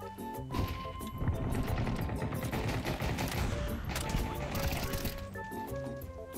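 Gunfire in the Counter-Strike 2 video game, including a sniper rifle shot, sounds within a dense, continuous mix of shots and game effects that stays steadily loud throughout.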